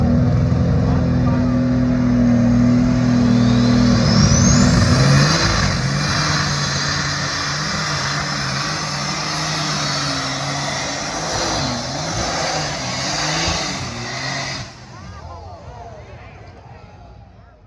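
A diesel truck in a truck and tractor pull at the Monroe County Fair in Waterloo, Illinois roars loud and hard with revving surges, then fades as it pulls away, while an announcer talks over it.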